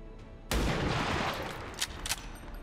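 Gunfire from the video game XCOM 2 with armor-piercing ammunition: one loud, close burst that rolls on for about a second, followed by a couple of sharper cracks. Nobody speaks.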